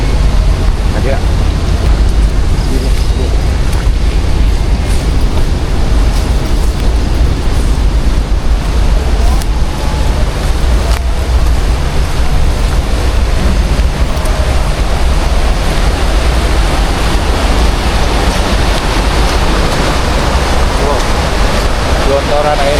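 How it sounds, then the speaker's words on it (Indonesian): Floodwater gushes in a loud, continuous roar of rushing, churning water close by, steady throughout, with people talking over it. "Gelontoran airnya."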